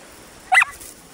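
A dog playing outdoors gives a single short, sharp bark close by, standing alone against quiet background noise.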